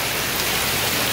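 Heavy rain pours on a Konkan village during the first monsoon rain of the season, a dense, steady hiss of drops on surfaces that is close and loud, with no voices.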